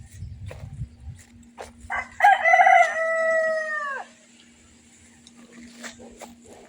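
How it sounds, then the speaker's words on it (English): A rooster crows once, loud and drawn out, after some low rustling and faint background noise in a garden with fallen apples, then quiet returns with a few soft knocks. "The noisy cockerel."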